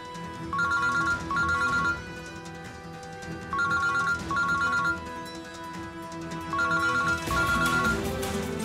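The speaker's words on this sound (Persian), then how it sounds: "آقا تلفنتون." A phone ringtone plays in repeated bursts, a bright electronic melody sounding three times in a regular pattern with short pauses between, fairly loud and clear over a quiet room.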